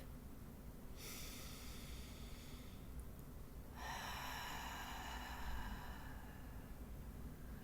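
Deep, slow breathing during a cacao and shamanic meditation, with two long airy inhalations or exhalations rising above a quiet, steady background hum, close and gentle.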